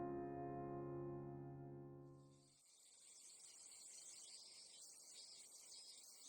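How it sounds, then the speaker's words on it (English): A sustained tonal hum fades out, then a dense, high-pitched buzzing chorus of cicadas fills the background of an anime soundtrack steadily, faint and distant. "As cicadas run rampant in the background"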